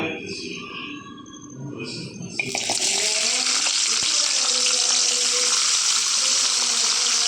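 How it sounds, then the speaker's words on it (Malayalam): Onions drop into hot coconut oil and set off a sudden, loud sizzle that continues steadily afterward; a voice speaks briefly before they go in. "ഇനി നമുക്ക് വെളിച്ചെണ്ണ ചൂടായി വരുമ്പോൾ നമുക്ക് ഉള്ളി ഇട്ട് കൊടുക്കാം"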